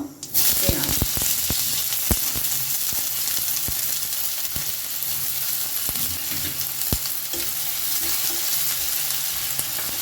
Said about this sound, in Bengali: তেল গরম হয়ে গেছে এবার এর মধ্যে দিয়ে দিচ্ছি একটু জিরে